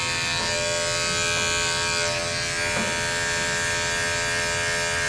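Electric clippers trim the ears of an aggressive dog during grooming, giving a close, loud, steady buzz that runs unbroken from start to finish.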